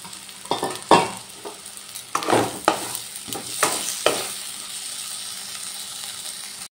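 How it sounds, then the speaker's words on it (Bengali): Fried potatoes are stirred into spice paste in a hot pan for a vegetarian broccoli curry, with several loud scraping spatula strokes over a sizzle that settles into a steady fry. "এবার দিয়ে দিলাম ভেজে রাখা আলুগুলো, দিয়ে আবারও ভালো করে কষিয়ে নেব।"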